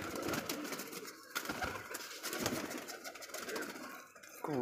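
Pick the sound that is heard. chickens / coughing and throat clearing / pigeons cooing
pigeons cooing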